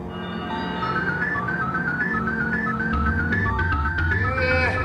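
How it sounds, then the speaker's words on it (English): An eerie electronic melody in short repeated notes over a droning bass, with a warbling descending effect near the end, like the game-over music from a Sonic game. "The game over screen has a very sinister sounding track with evil laughs."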